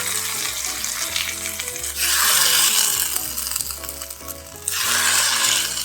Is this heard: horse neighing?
no